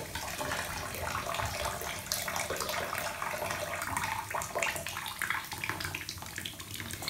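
Steady rushing of water pouring from a tap into a filling bathtub with a bath bomb, a continuous broadband splash with no voices.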